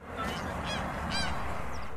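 A flock of white water birds over a flooded wheat field calls out loudly and close by, with repeated honking cries in short bursts against a constant rushing background.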